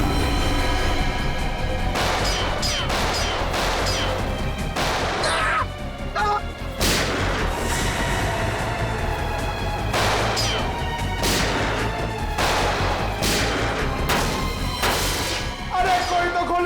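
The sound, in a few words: gunshots fired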